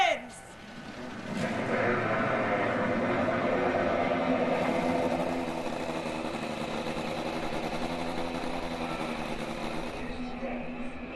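INDY NXT race cars starting their engines and idling on the grid at Laguna Seca, a dense sustained drone of many engines swelling after a brief start and holding steady, loud and close, with an announcer talking over it.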